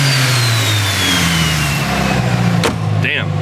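An SR-Z engine fitted with a turbo setup runs with a steady, loud rumble and shifting revs, and a sharp click sounds near the end.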